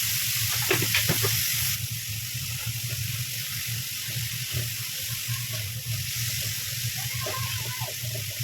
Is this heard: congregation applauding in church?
no